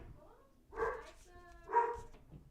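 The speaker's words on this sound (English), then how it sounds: "I pause because of the loud dog thing that is barking" A dog barks indoors: two loud, tonal barks about a second apart, with a quieter whimpering yip near the end.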